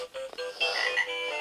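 A video game plays a short frog croak sound effect, a pair of quick nasal croaks lasting just over a second, clear and close against faint background tones.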